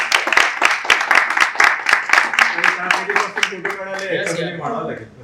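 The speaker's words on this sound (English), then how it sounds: "So round of applause for both of them." A small audience claps in a lively burst of distinct hand strikes that thins out toward the end as people start talking over it.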